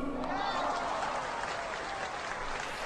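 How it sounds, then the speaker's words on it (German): Audience applause for a performer in a staged comedy show, a steady dense wash of clapping that holds at an even level throughout the short stretch. "Einen Applaus für unseren wunderbaren"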